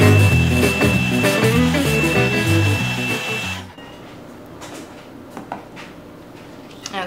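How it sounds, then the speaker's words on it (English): An embossing heat tool blows a loud steady whir close by while making DIY invitations, then cuts off partway through, leaving faint handling clicks and rustles. "Then turn on your heater and emboss."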